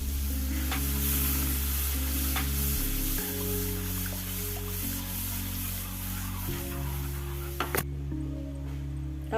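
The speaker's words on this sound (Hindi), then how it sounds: "वो भी इसी में डालते जाऊंगी धीरे धीरे और कंटिन्यू स्टर करते जाएंगे" Besan sheera being stirred steadily in a hot pan as milk is poured in gradually, a continuous sizzling hiss with scraping strokes, fairly close and on its own, with a brief splash near the end.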